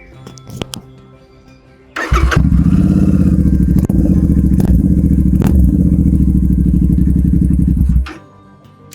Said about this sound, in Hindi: Let's start the motorcycle.